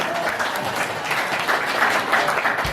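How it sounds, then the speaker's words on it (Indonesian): Audience applause at a local candidate ballot-number draw in Indonesia, a steady, moderately loud patter of clapping from a gathered crowd, continuous throughout with no one speaking over it. "tepuk tangan Bapak sekalian"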